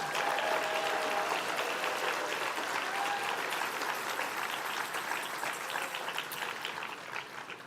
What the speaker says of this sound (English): let's give a round of applause for our affiliates and divisions